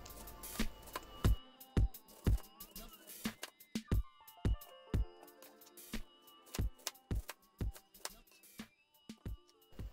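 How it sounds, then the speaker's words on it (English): Knife cutting cauliflower into small florets on a board, a series of sharp, close chops at an irregular rhythm, over soft background music. "The first thing you want to do is to cut up your cauliflower into smaller florets so that your blender can handle them easily."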